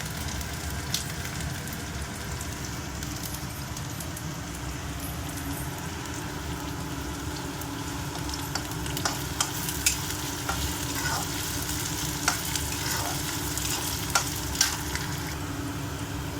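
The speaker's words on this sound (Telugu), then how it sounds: "గోల్డ్ కలర్ వచ్చే వరకు బాగా ఫ్రై చేయాలండి." Chopped green chillies frying in oil in a pan for a meal maker masala gravy, a steady close sizzle with occasional crackles and stirring scrapes, no voices.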